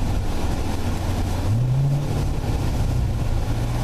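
A 2015 Chevrolet Corvette driven with paddle shifters on a winding mountain road, its engine a steady close drone under heavy wind and road roar, with one brief rising engine note partway through.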